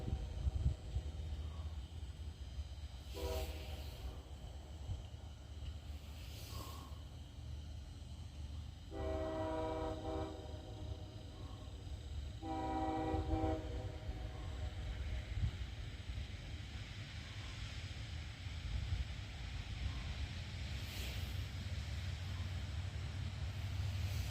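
A train horn sounds in a few short blasts, then two longer harmonic honks, over a steady rumble of distant rail noise as the train climbs an uphill grade.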